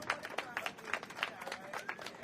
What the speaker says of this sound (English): y'all clap her up